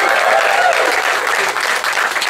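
A stand-up comedy show audience bursts into loud, dense applause, a steady wash of many hands clapping close by for a couple of seconds.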